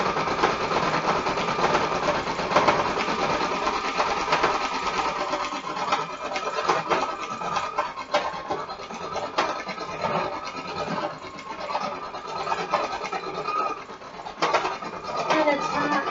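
A Brother PE800 embroidery machine stitches steadily, giving a continuous buzzing whir with a rapid needle rhythm and small shifts in pitch. The machine sounds close and runs alone without speech.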